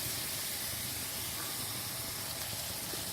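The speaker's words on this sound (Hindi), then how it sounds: "अच्छा सा 2 से 3 मिनट में इसको भूनूंगी" Potatoes and eggs frying with spices in a pan for a quick aloo anda dish, giving a steady, close hiss and sizzle that runs unbroken with no voices.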